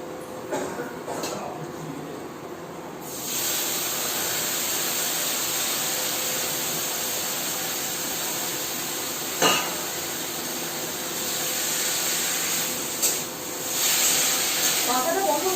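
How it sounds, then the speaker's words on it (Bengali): Saag greens frying in a pan give a steady, close hiss and sizzle after a quieter start, with a couple of brief clinks of utensils. "তো শাকটা নিয়ে এখানে ভাজছি।"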